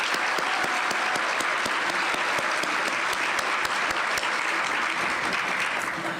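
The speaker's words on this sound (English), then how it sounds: "So round of applause for everybody." Steady audience applause at a school foundation fundraising event, many hands clapping in a continuous wash with a few sharp, close claps standing out, fading slightly at the end.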